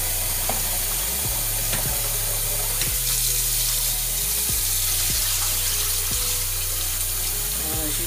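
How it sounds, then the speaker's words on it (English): Rice is washed and rinsed under a running tap for poblano peppers with yellow rice, a steady broadband splash of flowing water filling the whole stretch with a constant low hum behind it and no talking. "Me personally, I like to wash and rinse my rice."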